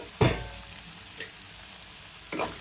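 Onions frying in a pan for potato curry, with a quiet background sizzle broken by three short stirring scrapes and clanks, the first loudest.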